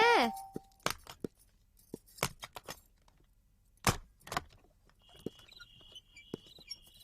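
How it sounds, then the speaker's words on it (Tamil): Car keys jangle and clink in sharp, scattered bursts close by, interspersed with brief rustles, a short tonal sound at the start and a faint high electronic tone later. "கார் சாவி"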